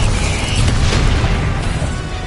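Fire spell cast in a Harry Potter video game, a loud, continuous roaring burst of flame with rumbling low end that fills the whole moment with no break.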